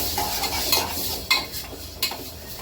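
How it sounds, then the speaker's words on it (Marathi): Carrots sautéed in ghee in a pan for gajar halwa are stirred with a utensil, giving steady scraping under a soft sizzle and a few sharp clinks against the pan. No voices. "हे चांगलं असं तुपामध्ये परतून घ्यायचं एकदम मस्त"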